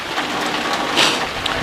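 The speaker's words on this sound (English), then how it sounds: "But it's raining out" Rain falls outside a home workshop as a steady, fairly loud hiss of drops hitting surfaces, continuous and close, with no voices over it.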